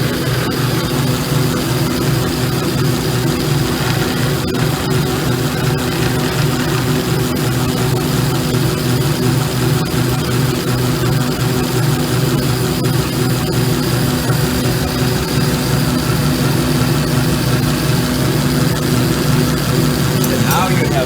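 A DM1100C Plus belt sander finishes small wooden parts. It makes a constant low, droning rumble with an even texture for about twenty seconds, and a voice talks over it.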